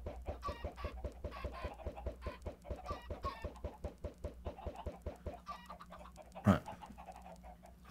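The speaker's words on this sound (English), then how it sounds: "Few little chickens around." Minecraft chickens cluck in a steady repeating pattern of short soft calls, faint and close together, with one brief louder thump near the end.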